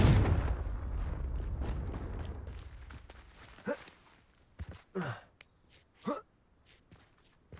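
Confringo blasting spell cast in the Hogwarts Legacy video game: a loud, sharp explosive burst that rumbles and fades over a few seconds, then several short breathy vocal gasps.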